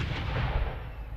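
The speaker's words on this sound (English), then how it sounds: "the sound of gunfire ringing out from Queen's Domain" A ceremonial gunfire salute at Queen's Domain, Tasmania, marking 100 years of the Soldiers Memorial Avenue: one deep, heavy boom with rolling rumble and no talking.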